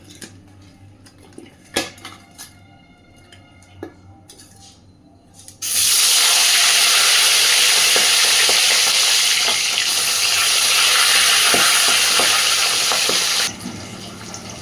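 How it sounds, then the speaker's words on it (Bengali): Two salted, turmeric-coated fish heads go into hot oil after several clanks and knocks from the utensils, setting off a loud, steady sizzle that holds for about eight seconds and then drops away. "এবার লবণ আর হলুদ মাখিয়ে নেওয়া মাছের মাথা দুটো আগে একটু সুন্দর করে ভেজে নেব।"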